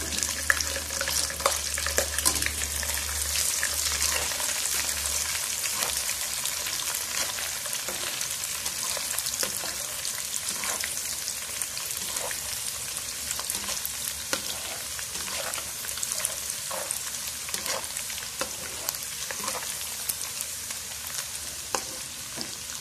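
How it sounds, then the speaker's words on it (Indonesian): Dried anchovies (ikan bilis) fry in a pan of oil for sambal garing ubi with potatoes, giving a loud, steady, crackling sizzle throughout with scattered pops and occasional stirring scrapes, and no talking. "Okey, sekarang saya goreng ikan bilis ya."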